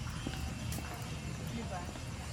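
Horse hooves clip-clop at Burnham Park in Baguio, a faint, irregular patter buried in a busy outdoor crowd with people talking throughout.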